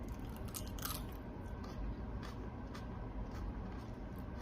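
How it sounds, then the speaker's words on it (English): Someone chews a mouthful of crunchy loaded baked potato casserole topped with chips, steady close crunching and mastication continuing throughout at moderate volume. "Do you hear that crunch?"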